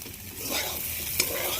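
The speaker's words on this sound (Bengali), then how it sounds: "এই যে এখানে কুঁদরি ভাজা করছি।" Ivy gourd (kundri) fries in a pan with a bright, steady sizzle and the scrape of stirring, plus one short clink near the end.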